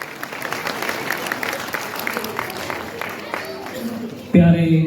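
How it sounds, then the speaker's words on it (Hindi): Audience at a school Expression Day event claps briskly and steadily, a fairly close, even patter of applause that gives way to a sudden louder tonal burst at the end. "आइए हम जोरदार तालियों के साथ हमारे टीचर्स का, हमारे बच्चों का उत्साहवर्धन करें।"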